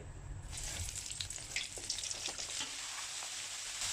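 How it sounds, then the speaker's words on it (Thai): Thinly batter-coated shrimp deep-fry in hot oil with a steady, close, crackling sizzle that runs throughout. "ก็ได้กุ้งที่มีแป้งมาเคลือบบางๆก็กุ้งลงทอดได้เลย"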